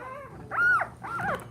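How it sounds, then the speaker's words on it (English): Boerboel puppies whimper and whine in rising, falling high-pitched cries, two distinct drawn-out calls close to the listener with quieter fussing between them. "We don't want our puppies making a lot of noise."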